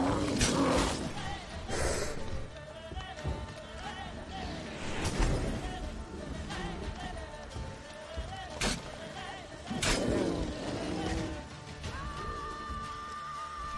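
A bear in The Witcher 3 video game gives loud, rumbling roars and snorts in repeated bursts, with someone talking over the game sounds.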